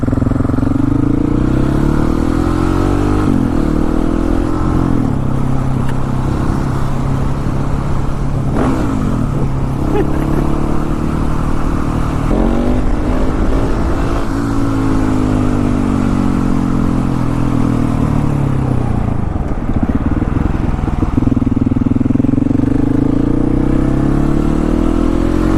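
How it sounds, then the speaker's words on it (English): One of the largest single-cylinder motorcycles revs hard and loud up close, its engine note rising and falling through repeated throttle blips and gear pulls, with a rough pulsing thump. "certainly one of the largest single-cylinder bikes you can get"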